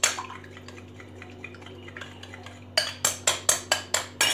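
A utensil stirs a thick, creamy homemade under-eye mixture in a bowl: a soft, steady rhythmic scraping, then a run of sharper, louder clinks and taps of the spoon against the bowl toward the end, close up, with no talk.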